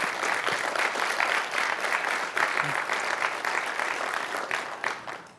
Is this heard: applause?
yes